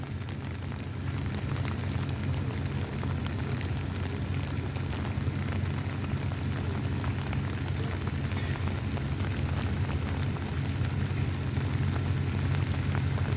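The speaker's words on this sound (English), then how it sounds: "it's a rainy night, so it's been raining" Steady rain falling at night on a street in Boston, a dense, even hiss with a low rumbling undertone that holds constant throughout, no voices.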